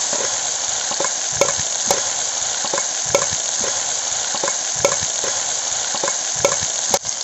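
Wet ground masala paste hitting very hot oil on a wood-fired village stove, giving a loud, steady sizzle throughout with faint scraping and stirring clicks repeating every second or so, and no one talking.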